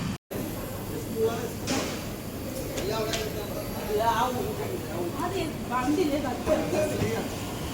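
A brand-new Amrit Bharat Express train stands at Nalgonda railway station on its first commercial run, its steady rumble and carriage hum filling the background while a voice talks over it throughout.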